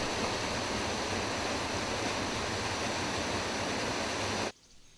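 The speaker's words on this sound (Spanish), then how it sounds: "Un desvío lleva hacia la majestuosa cascada que cae desde 15 metros de altura" A slender horsetail waterfall drops 15 metres in the valleys of A Fonsagrada, a loud, steady broadband roar of falling water that holds evenly, then cuts off abruptly near the end.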